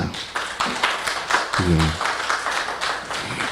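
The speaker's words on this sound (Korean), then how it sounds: "우리 이 땅의 모든 아버지들을 위해서 또 오늘 우리와 함께하는 예배드리는 아버지들을 위해서 박수 한번 해주시기 바랍니다." A church congregation at a Sunday worship service applauds for fathers: scattered, fairly close clapping fills the room, while a brief voice and murmuring come through the middle.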